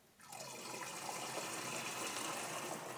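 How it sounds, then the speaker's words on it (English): Water gushing steadily from a tap into a sprayer bottle, starting abruptly and then running as a continuous close rushing fill, faint overall with no voices. "Fill it up the rest of the way with the water"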